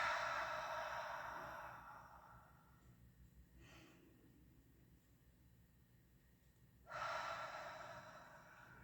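Two slow, deep breaths taken during a guided meditation, the first a long airy exhale fading out and the second a fuller breath rising near the end, close and soft against a quiet room.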